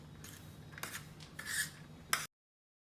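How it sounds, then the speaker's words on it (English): Coconut flakes being mixed with powdered sugar in a bowl give a close, dry scraping and rubbing of utensil against the bowl in several short strokes, finishing with a brief sharper clink before silence. "and mix well."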